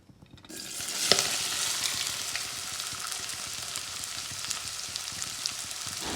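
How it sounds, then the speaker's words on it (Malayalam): Cut okra dropped into hot coconut oil in a small pan, a sudden loud hiss that swells into a steady, dense crackling sizzle, heard close and alone. "നമ്മൾ കട്ട് ചെയ്ത് വെച്ചുള്ള വെണ്ടയ്ക്ക കേട്ടോ ഇത് നമ്മൾ ഈ പാത്രത്തിലേക്ക് ഇട്ട് കൊടുക്കുകയാണ് കേട്ടോ വെളിച്ചെണ്ണയിലേക്കാണ് ഇട്ട് കൊടുക്കുന്നത്"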